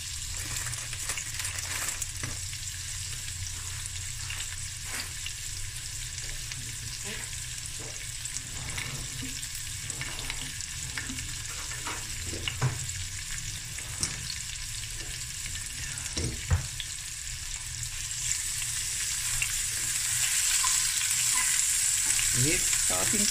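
Chili frying in a pan of oil for a sardine and mussel akhni, a continuous close sizzle with scattered crackles and stirring scrapes that swells louder toward the end.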